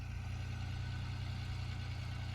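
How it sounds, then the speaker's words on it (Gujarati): A farm tractor creeps slowly along past fields, its engine a faint, steady low chug heard from a distance without changes in pace. "ટ્રેક્ટર લઈને જાય છે. હા ધીરું ધીરું ધીરું હાલે છે"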